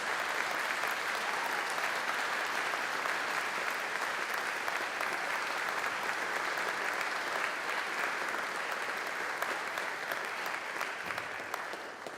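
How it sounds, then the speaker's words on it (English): A chapel audience at a university honors convocation claps steadily for an award winner, a sustained, even crowd applause lasting the whole stretch and fading slightly at the end. "please join me in a joyous applause for the 2022 Co-Curricular Award"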